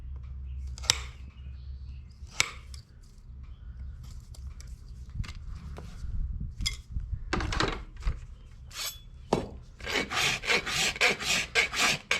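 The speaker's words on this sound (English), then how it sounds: "As always, when you're rasping on your foot, you want to hit the high spots first." A farrier rasps a dressage horse's hoof during shoeing, starting with the high spots: repeated scraping strokes that start sparse and build to a close, loud, rhythmic run of rasping near the end.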